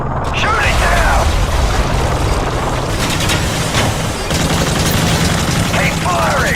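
Dense battle din from a Call of Duty video game, continuous heavy gunfire and booming blasts forming a loud unbroken wall of noise, with shouted voices mixed in beneath the chaos.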